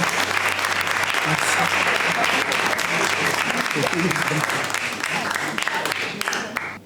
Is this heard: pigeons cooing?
no